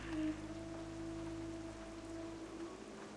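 Steady rain pattering inside a cave in World of Warcraft Classic, a continuous hiss of drops over low tonal game ambience, moderately quiet and unbroken, with no talking.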